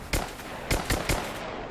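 Gunfire from soldiers in the video game Rise of the Tomb Raider: four loud, sharp shots in quick irregular succession, close and unaccompanied by talk.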